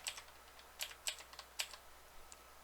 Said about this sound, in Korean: 다시 Alt 키를 누른 상태에서 방향키 오른쪽